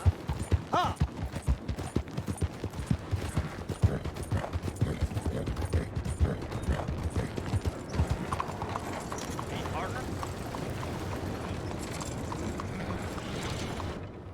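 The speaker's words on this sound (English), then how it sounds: "Welcome to you and your horse." Horse hooves clip-clop in a steady rhythm in a video game, fairly quiet, while game characters talk over them.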